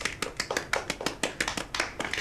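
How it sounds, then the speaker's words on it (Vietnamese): A small group claps hands together in a loose, rhythmic series of sharp slaps, close and fairly loud, for about two seconds with no talking over it. "Nào, mọi người vỗ tay nào."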